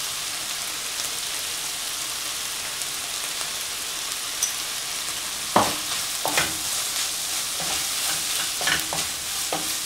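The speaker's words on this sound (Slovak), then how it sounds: "Papriku osmažíme len veľmi krátko, aby nám nezhorkla." Ground red paprika fries with soy meat and vegetables in a pan, giving a steady close sizzle, then a few sharp scrapes and knocks of stirring.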